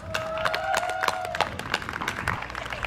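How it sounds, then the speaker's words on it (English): Applause from the crowd at the 2008 Pride Alive opening ceremony in Green Bay: a steady stream of close, sharp claps runs throughout, with a sustained tone sounding over the first half. "I think that deserves a round of applause."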